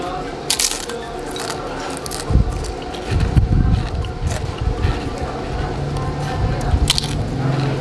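Crisp crunching of fried wonton being bitten alongside chicken noodles, a few close, sharp bites rising over steady background noise from a busy stall setting, with a voice talking.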